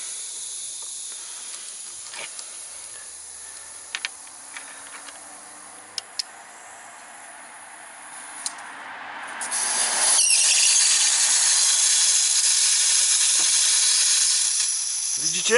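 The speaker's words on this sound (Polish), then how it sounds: "słychać jak ucieka gaz" Continuous hissing of gas escaping from a car's LPG valve, steady at first and then growing louder and broader partway through, with a few faint ticks.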